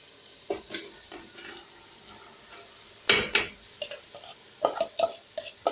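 Boiled spinach stirred into frying masala in a pan for palak paneer: a soft background sizzle with spoon scrapes and clatters against the pot, a louder burst of rustling and scraping midway, then quick knocks near the end, close with no talking.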